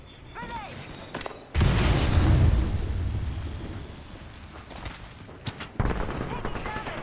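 Video game grenade explosions burst loudly into a broad roaring blast that decays slowly, followed by a second sharp boom near the end, with a voice speaking over the quieter stretches before and after.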